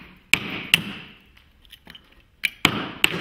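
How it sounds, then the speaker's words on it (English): A hammer striking and smashing oyster shells: five sharp, loud, ringing cracks in two bursts, each trailing briefly, with quieter shell rattling between the blows and no voices. "if I smash these up with a hammer"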